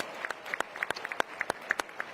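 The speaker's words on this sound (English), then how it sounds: "Let's give Brandon a round of applause." A small audience at an opening reception and dinner claps for Brandon, with sparse, distinct individual claps that are fairly faint and unevenly spaced.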